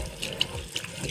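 Water runs steadily from a bathroom sink faucet in a hotel room in Cuba, a continuous close hiss and splash with small bright spurts, with no talking over it.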